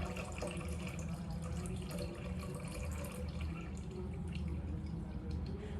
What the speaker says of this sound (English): As you can see, the water goes over here and then falls from the bottom.